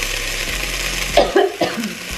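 A spoon scrapes and stirs thick veggie chili in a pot, giving soft wet clanks and scraping under a steady sizzling background.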